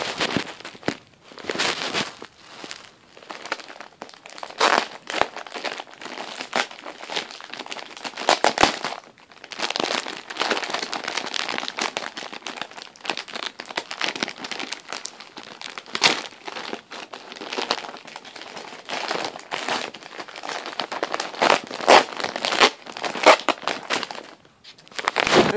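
Christmas wrapping paper being torn and crumpled open on a gift package, a dense run of crinkling, rustling and ripping bursts, close and fairly loud, continuing steadily with no talk.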